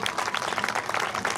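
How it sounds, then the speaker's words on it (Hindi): Audience applause at a company branch launch event, a dense steady wash of many hands clapping continuously and fairly loud, with no talk over it. "फिर एक बार आप सभी की तरफ से एक जोरदार तालियां हो जाए।"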